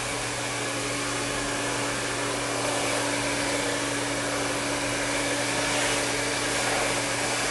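Hair dryer blowing hair dry with a round brush, a loud constant whooshing airflow with a steady motor hum underneath, close and unbroken throughout.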